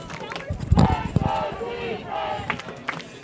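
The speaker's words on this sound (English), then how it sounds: "The Eagle crowd trying to get into it here a little bit." A night football crowd of Eagles fans roars and shouts in a broad, swelling wash of cheering. Scattered yells rise over the noise, and voices mingle close by.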